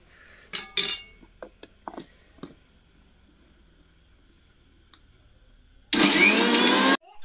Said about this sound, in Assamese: এয়া গ্ৰাইণ্ড কৰা হোৱা নাই ভালকৈ পিছ যোৱা নাই আৰু এবাৰ কৰিব লাগিব